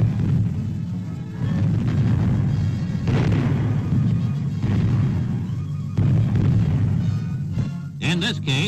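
Artillery shells from a communist bombardment burst on offshore islands, a run of heavy booming blasts and rumbling impacts in old newsreel footage, fairly loud and continuous, ending with a brief burst of other noise.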